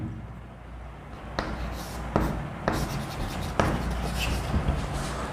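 Chalk or marker writing on a board during a lecture, a run of short scratchy strokes and taps at close range over a steady room hum, with a voice lecturing at times.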